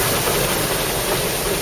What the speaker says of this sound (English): There's one of the new bigger steam engines, number 16, pushing up.